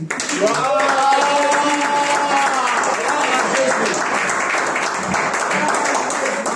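Church congregation at a Sunday service applauding and acclaiming Jesus, with loud, continuous clapping and crowd noise and a voice singing or calling out over it early on.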